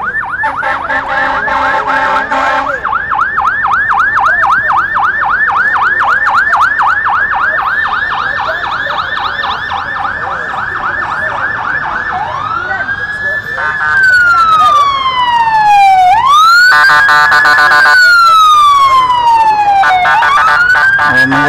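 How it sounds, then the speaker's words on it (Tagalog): Police car sirens approaching the scene of a big road accident at Jane and Trethewey, loud and close, cycling through rapid warbling wails and then long rising and falling sweeps as the vehicles arrive, with people talking faintly underneath. "Eto na, dumadating na yung mga pulis."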